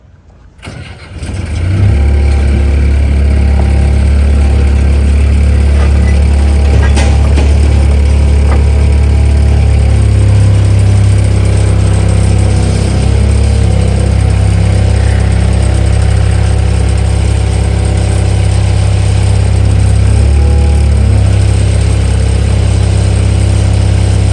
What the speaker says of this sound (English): we are going to do the flex test with like a skid steer